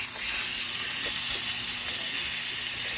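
Steak sizzling in a pan on a Sunday cook: a steady, close, broad hiss of fat and juices crackling with small pops, continuous and unbroken, no voices.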